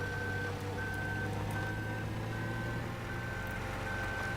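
Farm vehicle in Farming Simulator 2017 idling with a low steady engine drone while a reversing alarm beeps at a regular pace, about six beeps, all at a constant loud level with no talk.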